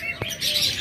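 A cockatiel from a pair kept for sale gives a single short chirp, clear and close, over a steady background hiss.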